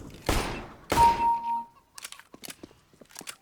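Gunshots in CS:GO, two sharp loud shots about half a second apart with ringing tails, followed by quieter rapid clicks and taps.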